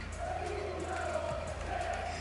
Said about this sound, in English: apparently the French community, they can cheer the loudest